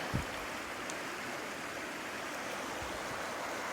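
Continuous rushing water from a nearby stream, a steady even wash with a brief knock at the start.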